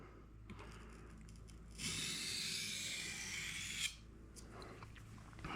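Katana blade drawn firmly across a whetstone to remove a burr, one continuous gritty scrape of about two seconds set against quiet surroundings, close and moderately loud.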